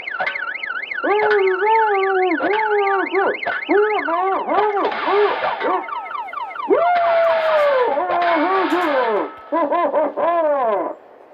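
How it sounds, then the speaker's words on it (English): A loud electronic alarm cycles through warbling, whooping and rising siren patterns, switching tones every few seconds with no pauses. "that's the alarm right now."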